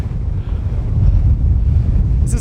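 Strong wind on an open mountain summit buffets the microphone with loud, continuous low rumbling gusts throughout, and a brief sharper rustle at the very end.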